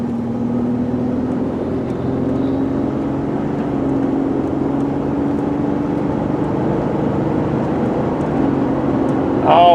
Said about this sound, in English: So now we're going to take it out on the road here. All right, so off we go.